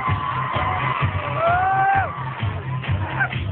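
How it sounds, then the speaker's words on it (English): A school hall audience at a teachers' dance off cheers, whoops and shouts loudly over thumping dance music, with high excited yells rising above the crowd noise and a steady beat underneath. "Let's have a big round of applause for the next person up."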